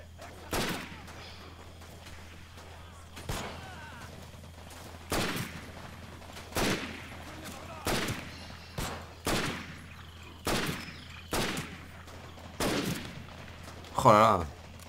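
In the Medal of Honor Pacific battle at Guadalcanal, allied soldiers fire guns in a run of regular bursts about a second apart. The shots are moderately loud and sit over a low, steady game background.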